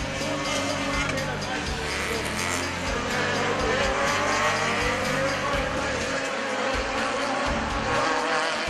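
Race cars at Dover, Jamaica, speed down the front straight with a continuous, buzzing engine whine. The sound is loud and fairly close, with a commentator talking over it.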